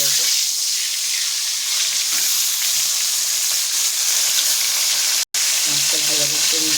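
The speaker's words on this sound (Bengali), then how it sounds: "তেলটা গরম হয়ে গেছে, মাছটা ভেজে নেবো" Tilapia fish sizzles loudly in hot oil in a wok, a strong continuous frying hiss with faint clinks and a brief dropout near the end.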